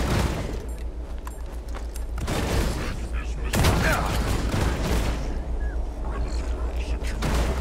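A frag grenade blast in the System Shock Remake video game: a sharp, loud burst amid rattling gunfire and clattering combat noise, with a voice talking over parts of it.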